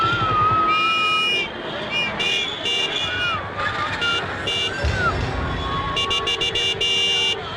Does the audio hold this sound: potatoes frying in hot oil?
no